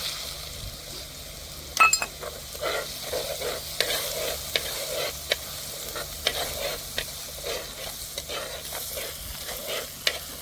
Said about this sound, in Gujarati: આદુ લસણની પેસ્ટ, આપણે એમાં નાખી દઈશું ઝીણા સંભરેલા કાંદા.